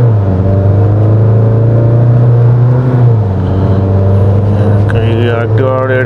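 A 2025 Tata Harrier Stealth Edition diesel automatic, driven in manual mode, pulls hard with a loud, steady engine drone whose pitch climbs and then shifts, heard close from inside the cabin with faint voices late on.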